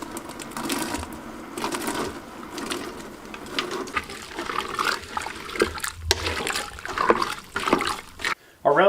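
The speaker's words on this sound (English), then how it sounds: "We're going to put it in there, give it a stir, and then we're going to let it boil for 10 minutes" Chopped vegetables are stirred into a pot of relish set to boil, giving wet sloshing, gurgling and scraping sounds at close range while a person talks over it.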